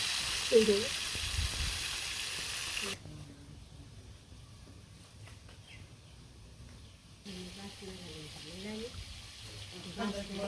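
Potatoes frying in a pan: a hiss and sizzle sits under people talking for the first few seconds, then a quieter stretch and a steady soft crackle, with voices returning near the end.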